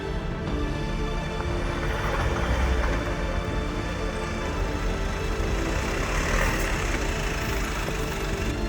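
A 4x4 engine runs in low range with the handbrake released and the transmission in drive, giving a steady, loud, continuous drone with deep rumble and no change in pace.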